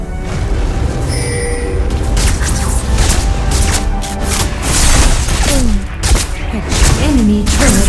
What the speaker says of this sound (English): Enemy turret destroyed.